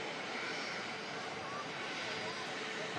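An aircraft arriving from Marrakesh touches down on landing, a faint, distant, steady broadband jet roar with no distinct events.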